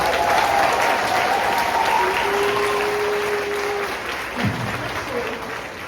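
Sustained audience applause fills a high school spring choir concert hall, steady and dense, easing slightly toward the end as a few voices rise over the clapping.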